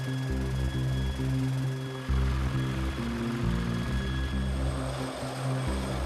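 A CH-53K heavy-lift helicopter drones steadily at a moderate distance, a continuous layered rotor and turbine hum with a faint high whine, no voices present.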